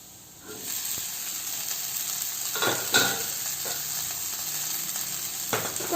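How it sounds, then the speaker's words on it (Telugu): Boiled potatoes tipped into a hot pan, a sudden sizzle rising after a quiet start, then a continuous hiss with several soft scrapes of gentle stirring, close up and without voices. "సో ఇంక ఇప్పుడు మన ఆలూని వేసేద్దాం."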